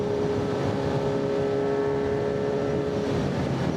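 A Kawasaki Z900 inline-four motorcycle engine runs with a steady, smooth droning hum at a constant pitch, loud and continuous at close range with no speech.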